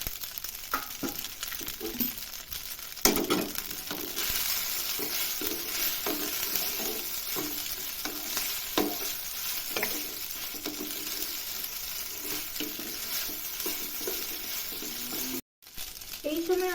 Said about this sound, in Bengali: এবার এতে আমরা পাস্তাটা দিয়ে দিচ্ছি।